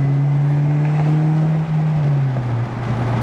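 Toyota A90 Supra with an aftermarket exhaust, heard from inside the car as the engine drones steadily, then dips and climbs in pitch through a downshift and rev, loud and continuous with no talking.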